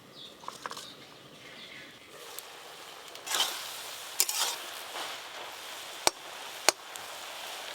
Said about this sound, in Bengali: তুমি শাক ভাজা করো